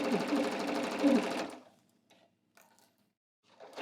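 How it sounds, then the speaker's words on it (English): Sewing machine stitching a curved pant inseam runs in a fast rapid whir for about a second and a half, stops, then a few faint clicks follow before it briefly starts up again. "Now we're sewing a curve, and that can be a little tricky."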